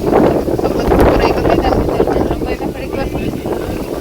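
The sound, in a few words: cool wind blowing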